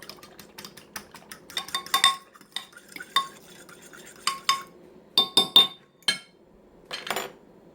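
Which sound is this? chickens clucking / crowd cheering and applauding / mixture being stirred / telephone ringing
mixture being stirred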